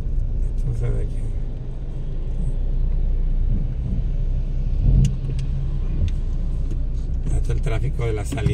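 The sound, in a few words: car traffic on a road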